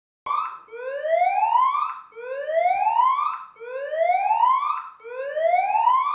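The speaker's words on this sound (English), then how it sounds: "The built-in siren is also quite loud." A Moes WCM-P52 security camera's built-in electronic siren wails in repeated rising sweeps, about four cycles in a steady rhythm, shrill and close.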